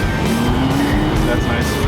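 A Maserati engine drones while the car is driven, a steady low rumble with a slowly rising tone as it pulls, heard from inside the cabin with talk over it.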